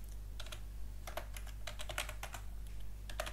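Typing a Linux terminal command on a computer keyboard, a run of quick, close key clicks in irregular bursts over a steady low hum, with no voice.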